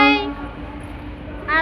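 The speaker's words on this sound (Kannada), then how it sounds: "horn ಹೊಡಿತು guys" A train horn blasts loudly at a railway station, one long tone that fades out and then starts again near the end, with background station noise between the two sounds.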